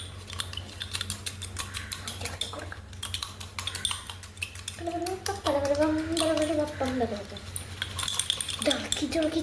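A fork beats instant coffee in a cup for a homemade cappuccino, giving steady rapid metallic clinking and scraping throughout, with a brief voice-like tone partway through.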